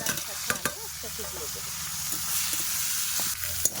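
Red amaranth greens fry in hot oil with onion and garlic, a steady close sizzle broken by a few sharp scraping stirs near the start and end.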